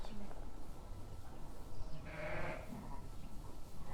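Sheep and lambs bleating on a farm at lambing time, a few short calls mid-clip over steady background noise and low murmuring voices.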